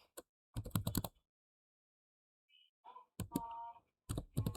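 Clusters of quick keystrokes clack on a computer keyboard close by, in short bursts separated by silent pauses, with a faint tone in one gap.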